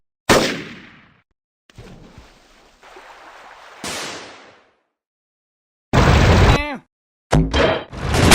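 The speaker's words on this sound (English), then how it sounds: "They're firing on us!" Cartoon gunfire from an animated Henry Stickmin parody: sharp, loud bursts with decaying tails, a few isolated shots and then dense rapid volleys, separated by stretches of silence.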